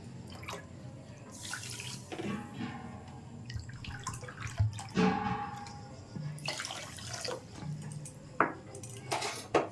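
Two bowls of water poured over sugar in a pan to start a syrup, with splashing and pouring mixed with clinks and knocks of bowls and utensils, close and moderately loud.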